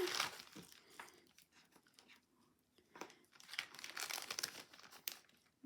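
Chocolate kisses in crinkly foil wrappers are dropped and rustled into a plastic snack bag, making quiet, close crinkling and rustling with scattered louder crackles.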